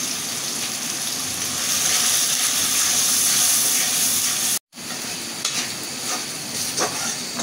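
A spice paste of cumin, turmeric and salt is stir-fried in a pan for a Bengali fish dish. It makes a loud, continuous sizzling hiss with scraping stir sounds, broken by a brief moment of silence partway through.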